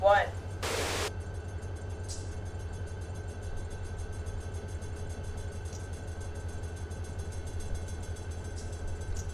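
A train rolls along in a virtual model railroad game, giving a continuous low rumble with a faint rhythmic clatter, opened by a short burst of noise.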